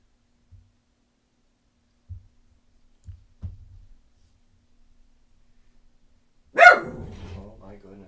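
A dog barks indoors, one sharp loud bark followed by a ringing tail and some lower rumbling, after a few faint soft thumps in an otherwise quiet room.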